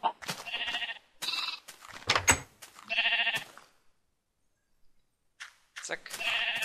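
Sheep in the video game Minecraft bleat repeatedly in loud, close, wavering calls, several in a row, then a pause before more bleats.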